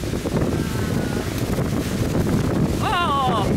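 Strong wind buffets a boat deck on a wet, windy cruise through Milford Sound, a steady broadband roar throughout, with a brief whistling tone near the end.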